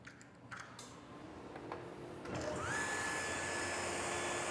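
A saw in a woodshop starts up to cut scrap wood for a box joint test. After some quiet, faint knocks, the motor spins up into a loud, steady, high whine that keeps going to the end.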